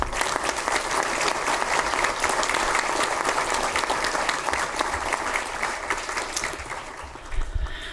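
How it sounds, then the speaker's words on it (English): Sustained, dense applause from a large audience at a Charter Day honors ceremony for top students and honorees, loud and steady for the whole stretch with no voices over it. "Can we have one more big round of applause for all of our honorees?"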